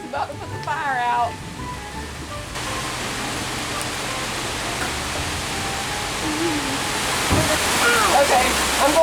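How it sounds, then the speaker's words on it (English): Steady rain falls outdoors beside a fire, a broad continuous hiss that grows slightly louder toward the end, with a brief bird-like chirp at the start and a faint voice near the end. "Is that rain?"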